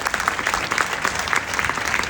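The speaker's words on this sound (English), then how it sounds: "I think we should give New Skin another big round of applause." Audience at a goal setting forum gives a lively round of applause, many hands clapping densely and evenly, near and loud for a couple of seconds.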